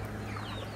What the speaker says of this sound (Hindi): ये टर्की को लेके 6 ब्रीड मुर्गों की हो गई है।